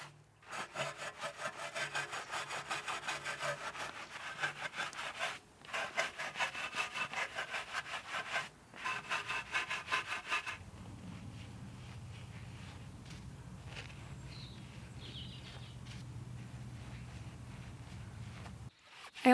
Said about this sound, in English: I also used the new tyre scrubber from Soft 99, and this did a very good job at agitating the rubber and drawing out a lot of that grime